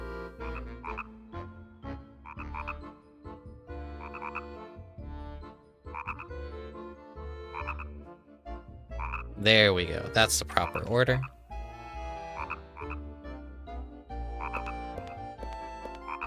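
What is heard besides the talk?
frogs croaking in The Nightmare Before Christmas: Oogie's Revenge video game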